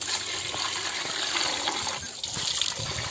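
Water pours steadily over a whole raw chicken of about two kilos being rinsed, a continuous splashing gush, close by, with a broad hiss and no voices.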